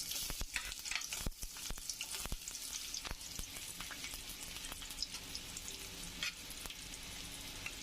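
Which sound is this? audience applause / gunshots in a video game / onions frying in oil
onions frying in oil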